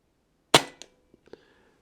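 A single shot from an Air Arms S510 TC twin-cylinder air rifle, a sharp close crack followed by a few faint small clicks and taps.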